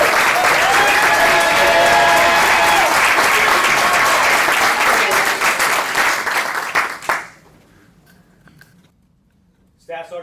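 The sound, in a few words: audience applause for graduates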